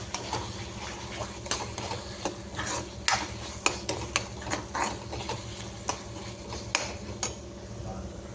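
A spoon stirring dried fish curry with homemade garam masala in a pot, soft scattered clinks and scrapes over a low simmering background.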